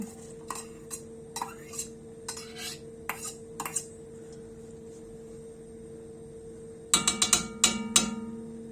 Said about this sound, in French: On fait revenir nos oignons.